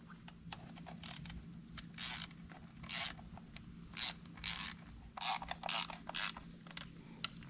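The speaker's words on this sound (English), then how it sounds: "We're gonna crisscross tighten these up." A ratchet tightening 10 mm bolts on a Honda Africa Twin motorcycle water pump, with bursts of crisp clicking pawl strokes separated by short pauses, close and fairly quiet with no talk.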